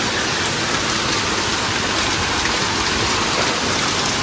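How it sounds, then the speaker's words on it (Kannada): Heavy rain pours down in a dense, steady hiss, loud and unbroken from start to finish with no voices. "ಫುಲ್ಲು ಮಳೆ."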